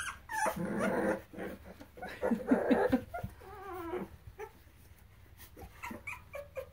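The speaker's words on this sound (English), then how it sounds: "That was Luna growling" A Boxer dog growls and whimpers in low, rumbling bursts with a few yips, close by, then tapers off into quieter grumbles.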